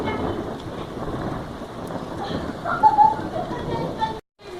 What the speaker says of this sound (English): Yes, it's the thunders again.